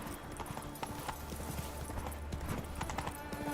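Roach, Geralt's horse in The Witcher, trots with rapid, even hoof clip-clops, close and continuous over a low game ambience, without any spoken voice.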